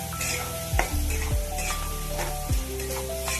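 Onion and tomato with salt fry in a pan for a cluster bean curry, a steady close sizzle broken by several scraping stirs of a spatula.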